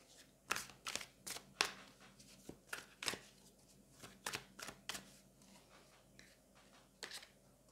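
Close, quiet riffling and snapping of a tarot deck being shuffled, with a rapid run of crisp card flicks in uneven bursts and brief pauses, no talk.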